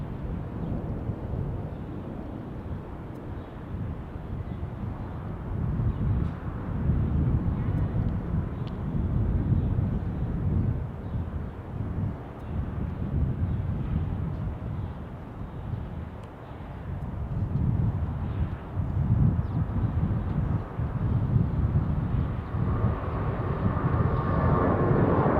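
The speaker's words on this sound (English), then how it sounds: "Takeoff roll here for Delta." A Delta airliner on its takeoff roll, heard as a steady, broad, roaring engine rumble with wind buffeting on the microphone that builds slightly and holds for the whole stretch, and no talk over it.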